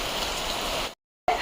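Steady rainfall hisses evenly and close for about a second, cuts out briefly to silence, then resumes.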